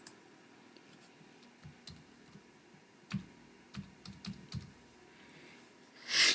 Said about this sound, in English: And I'm going to type out Anders.